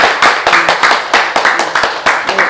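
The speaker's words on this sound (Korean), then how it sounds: "다시 한번 박수 부탁드립니다" A few people clap in short, uneven bursts at a Korean citizen-participation conference on community care, with individual claps close and distinct.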